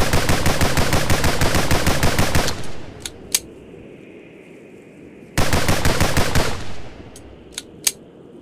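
Full-auto M16A1 rifle fire in the video game Gorebox comes as two loud, rapid bursts of closely spaced shots, each followed by a brief quiet gap with a few faint clicks.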